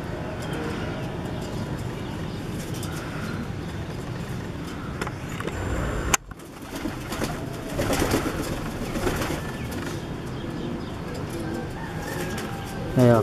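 A pigeon coos softly and repeatedly at close range amid outdoor background noise, with brief handling sounds and a little human speech nearby.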